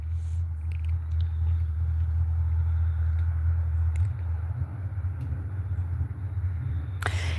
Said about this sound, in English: I hear somebody doing something with a loud car motor somewhere way off.